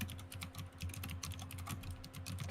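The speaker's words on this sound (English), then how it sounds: "I was quiet because I was typing that out" Rapid clicking of keys on a computer keyboard, close and fairly quiet, with uneven bursts of keystrokes running continuously and no talking over them.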